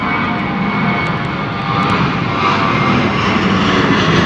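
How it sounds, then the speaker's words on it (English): A British Airways Airbus A320 jet powers up for a go-around at London Heathrow in wet, windy weather, producing a loud, continuous engine roar that holds steady and swells slightly toward the end. "British Airways A320 going around."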